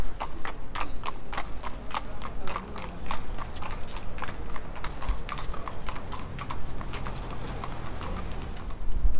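Horses clip-clop along a street in Vienna, a steady run of sharp hoof strikes on hard pavement, moderately close, over a low murmur of street noise.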